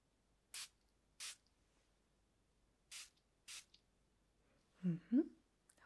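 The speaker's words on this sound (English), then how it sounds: "Okay, so I'm just going to spray it." Four short, crisp hisses of a fruity, citrus fragrance being sprayed from an atomizer, spaced in two pairs and heard close in a quiet room, followed by a soft, brief vocal sound near the end.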